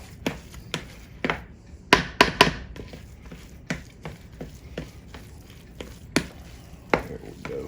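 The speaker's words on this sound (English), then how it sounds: "let's stir that in" Twice-baked potato filling seasoned with fresh ground pepper is stirred in a bowl, giving a series of sharp spoon taps and scrapes at an irregular pace, close and fairly loud.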